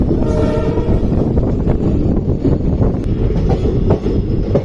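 Shivamogga–Mysuru daily express train 16226, an 18-coach train, rolls into platform 1 at a junction station, a loud close continuous rumble of wheels and coaches with faint clatter throughout.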